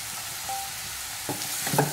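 Crushed shallots and curry leaves frying in hot oil as they are stirred, a steady close sizzle with a soft scrape of the spoon building toward the end.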